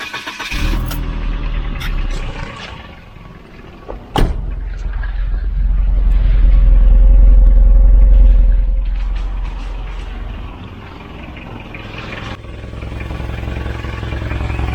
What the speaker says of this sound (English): but the exhaust, the cat is blowing